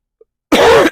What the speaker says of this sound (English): I never start coughing until I start to do the voiceovers